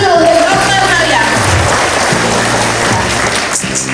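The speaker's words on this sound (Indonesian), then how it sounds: "Tepuk tangan dulu." Applause from a crowd of listeners at an Indonesian children's event in Cirebon, steady dense clapping that fills the whole stretch at close range, with talk and music tones mixed underneath.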